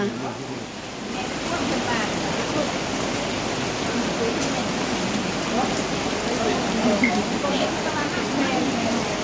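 Heavy rain pours down steadily at a Thai merit-making gathering where young elephants shelter under trees, a dense broadband wash of drops that holds even and loud throughout, with faint voices briefly mixed in.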